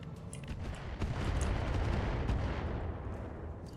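Thumper artillery firing in the BattleTech video game, a sustained rumbling barrage of heavy booms that swells after the first second and stays loud, dense and continuous to the end.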